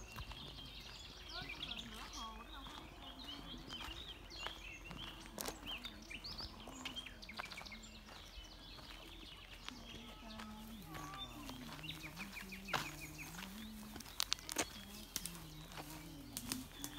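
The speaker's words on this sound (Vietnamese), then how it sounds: "Trong này chim nhiều quá, kêu nghe chít chít chít chít." Many birds chirp and call in scattered short bursts by a lake on a hot afternoon, over a quiet background, with people talking at times.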